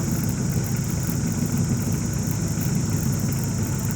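A motorcycle engine idles close by, a continuous low rumble with a constant mechanical buzz and no breaks in the sound.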